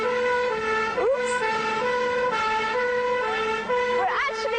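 A police siren wails steadily with harmonic stacks as a car speeds through the streets of Bath, loud and close throughout, its pitch sweeping at moments with brief yelps.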